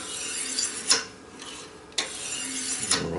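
A kitchen knife rasps along a sharpening surface in short strokes, two sharp passes standing out amid steady scraping, close and fairly loud with no voices.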